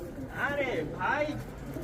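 Two soft, throaty coos from Rajshahi Giribaz pigeons, one after the other, under a faint murmur of nearby voices and background hum.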